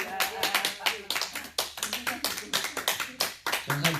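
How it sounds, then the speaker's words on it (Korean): A church congregation claps in a rapid, uneven burst of sharp hand claps lasting several seconds, with voices audible alongside. "하나님께 크게 박수 한번 드립니다"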